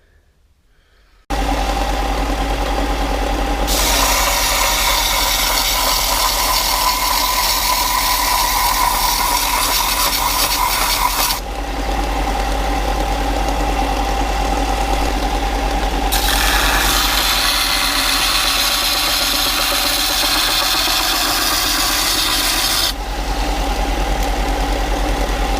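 A belt sander trims a Land Rover 110 door part to fit, giving a loud, continuous motor whir with a low hum beneath it, and the sound swells harsher whenever the workpiece is pressed against the belt.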